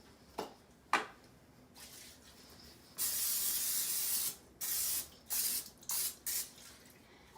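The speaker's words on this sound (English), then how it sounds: "I'm just going to give it a quick spray with some olive oil." Olive oil cooking spray hisses in short bursts onto an 8x8 glass baking dish, one long spray followed by several quick shorter ones, close and fairly quiet with no talking.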